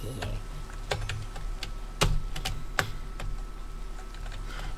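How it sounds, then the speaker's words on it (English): Loud, fast clacking of a computer keyboard during Minecraft play, sharp individual keystrokes in an uneven rhythm, close up, over a low background hum. "let me know if you want me to get a quieter keyboard, because I realize it's loud"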